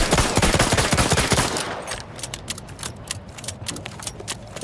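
A weapon fired at a shooting range in The Outer Worlds 2 video game: a loud, rapid automatic burst for about two seconds, then quieter, spaced shots and mechanical clicks.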